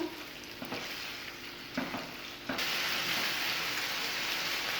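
Boneless chicken cubes sizzle in a pan while being stirred, with a few scraping strokes early on before the frying hiss swells louder and steadier.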